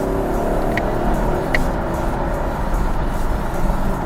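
A 2021 Chevy Camaro with an LT1 V8 drones steadily from inside the cabin as it downshifts and accelerates. The engine holds a constant loud roar with road noise, and two faint short chirps come in early.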